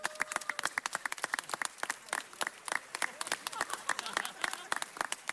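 Audience at a Los Angeles City Council LGBT Heritage Month presentation bursts into applause, dense overlapping hand claps from a large room, sustained and lively throughout.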